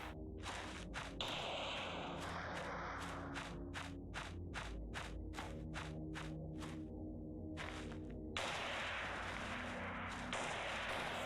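Rifle shots ring out in Forbidden Siren as a string of evenly spaced, fairly faint reports, about a dozen in a row over a steady game background.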